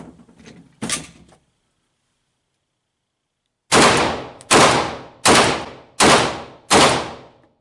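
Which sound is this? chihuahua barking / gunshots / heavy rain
gunshots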